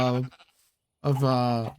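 Sheep bleating in Minecraft: two loud, close, wavering baas separated by a brief silence.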